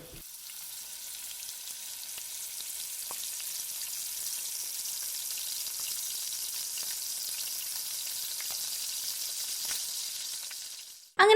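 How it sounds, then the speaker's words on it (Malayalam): Chicken pieces fry in a pan, giving a steady, fairly quiet sizzle that holds evenly for several seconds and then cuts off abruptly at the end. No one speaks. "അങ്ങനെ നമ്മളുടെ ചിക്കൻ നന്നായിട്ട് ഫ്രൈ ആയി കിട്ടിയിട്ടുണ്ട്."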